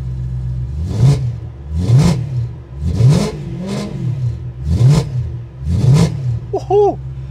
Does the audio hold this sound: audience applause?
no